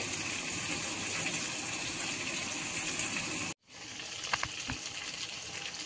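Water drains off boiled cabbage being prepared for a fish-head cabbage dish, a steady close rush of pouring water that breaks off briefly, then resumes with a few light clinks.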